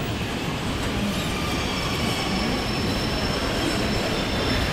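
A KRL commuter train rumbles loudly and steadily past a station platform at Pasar Senen, Jakarta, with a thin, sustained high wheel squeal riding over the continuous roar of the railcars.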